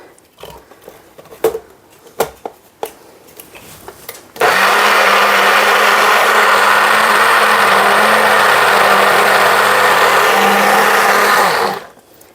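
A countertop blender purees mushroom soup, starting abruptly after a few scattered knocks and clunks and then roaring loud and steady for about seven seconds before shutting off.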